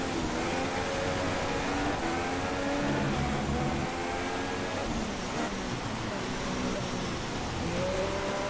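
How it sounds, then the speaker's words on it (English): Heavy rain pours down during a Formula 3 race at Brazil in a racing video game, a dense, steady hiss throughout with race car engines droning underneath. "You can see that rain just pouring down."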